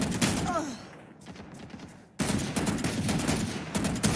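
Rapid bursts of automatic gunfire from strafe shooting in Valorant, loud and close, broken by a brief lull before dense shooting resumes with continuous crackling reports.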